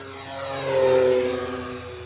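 An FMS Pitts 1.4 m RC model airplane at half throttle, giving a steady buzzing propeller drone that swells slightly as it passes and then eases off, heard alone outdoors over a yard.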